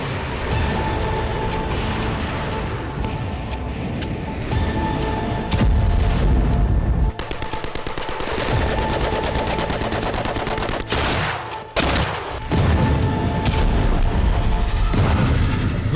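War footage of Russian strikes in western Ukraine, with dense, loud bursts of gunfire and heavy booming explosions that go on almost without a break and have a few brief lulls.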